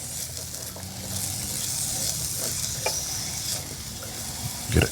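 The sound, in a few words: diced white onion frying in oil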